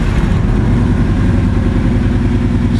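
2006 Kawasaki Vulcan Nomad VN2000F motorcycle engine running just after starting, a loud, close, steady low idle with an even thumping pulse.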